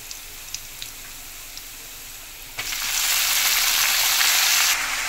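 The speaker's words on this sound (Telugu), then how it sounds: "తోటకూర వేసాను. ఇప్పుడు కలుపుకోవాలి, బాగా ఫ్రై చేసుకోవాలి." Amaranth leaves (thotakura) hit a hot pan and burst into loud, steady sizzling, preceded by a few faint taps and light frying, then frying on continuously as they are stirred.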